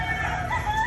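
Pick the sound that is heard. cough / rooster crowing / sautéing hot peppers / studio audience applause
rooster crowing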